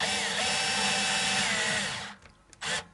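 A powered screwdriver on a low torque setting drives a screw into a Harley Benton Standard Strat guitar, giving a steady whirring buzz for about two seconds, then a brief quiet and a short second burst.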